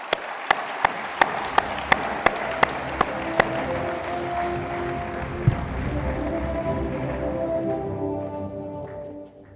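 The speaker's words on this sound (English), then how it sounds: "Please join me in a round of applause." Audience applause at a space-conference closing ceremony: a long steady swell of clapping from a large hall, fading out, under a run of sharp evenly spaced percussive hits at the start, like a musical fanfare.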